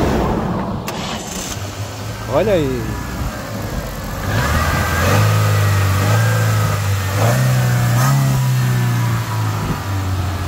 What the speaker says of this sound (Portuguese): O amigo vai dar partida aqui no motor para a gente escutar junto o ruído.